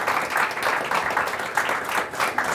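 Applause for the panelists at a monthly marketing meetup, a sustained round of clapping from a live audience, even and full, with no break.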